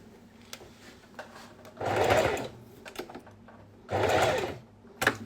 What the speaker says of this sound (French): je couds tout le long en enlevant mes épingles